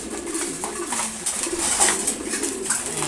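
Red checker pigeons coo steadily at morning feeding time, a soft low burbling that rises and falls in overlapping phrases, close and moderately loud, with no voices.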